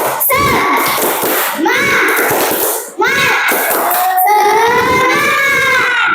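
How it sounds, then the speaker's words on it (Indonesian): A classroom of students repeats a chanted clapping cheer, loud group voices rising and falling with sharp unison claps and slaps woven into the rhythm, ending on a long drawn-out shout. "Oke, sekali lagi. Tepuk semangat."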